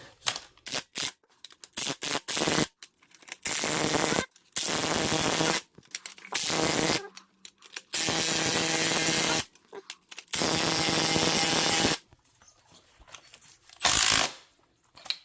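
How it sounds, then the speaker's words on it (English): A spring compressor is run on a Toyota Supra Mk5 strut coil spring in loud, close bursts of whirring tool noise, each lasting one to two seconds, separated by short pauses and a few clicks. "We're gonna compress the spring so that we could take out this nut right here."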